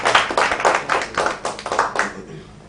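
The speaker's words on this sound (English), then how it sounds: "Please, a round of applause for Obi Odogu." Applause from an audience at a live stream show, heard as about eight distinct, fairly close hand claps in an uneven rhythm that fade out near the end.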